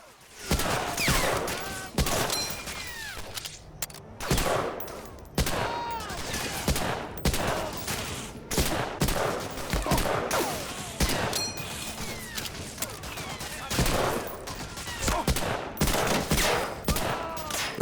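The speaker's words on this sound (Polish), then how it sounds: "Ktoś do mnie jeszcze strzela." Dense, continuous gunfire in the video game Medal of Honor: Allied Assault Breakthrough, with rapid bursts and single shots cracking one after another, loud and close, with no pauses throughout.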